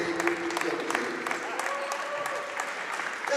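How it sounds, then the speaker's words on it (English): Crowd applause at a girls' under-15 basketball medal ceremony, a steady patter of many hands clapping throughout, moderately close, with voices mixed in beneath. "Let's give them a round of applause."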